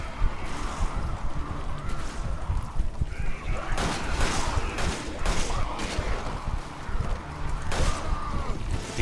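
Gunfire from the Resident Evil 5 Mercenaries mode, with several sharp shots and bursts, including a headshot, cracking over a continuous noisy game backdrop.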